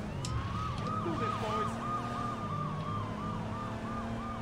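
Police siren in the Saints Row video game, a fast repeating yelp over a constant engine drone and street noise, loud throughout with no voices.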